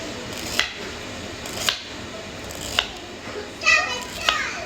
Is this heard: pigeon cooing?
no